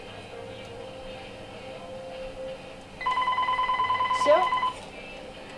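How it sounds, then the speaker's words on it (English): In a video game, a telephone rings in a steady, pulsing electronic trill that starts partway through and lasts about two seconds. Faint background sound comes before it, and a brief spoken word and some game sounds overlap it. "I'm going to instead answer the phone, and I will see you later. Stupid phone."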